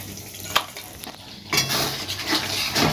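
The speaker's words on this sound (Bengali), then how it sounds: "এবার 2টো যে টমেটো পেস্ট করে রেখেছিলাম সেটা দিয়ে দেব।" Tomato paste goes into hot spiced oil in a pan, a scrape and clink of a spoon followed by a steady close sizzle with stirring rasps, no talk.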